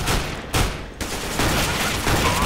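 Shotgun blasts in the video game Counter-Strike: Global Offensive, several loud booming shots fired in quick succession with no talk over them.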